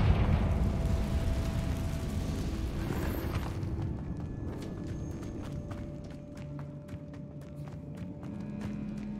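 A Confringo blasting spell goes off in Hogwarts Legacy, a loud rumbling blast in a cavern that dies away after about three seconds into low ambient music and faint clicks.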